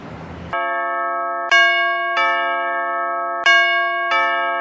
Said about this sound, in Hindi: ऊपर से इतना घंटी पे घंटी बजाया जा रहा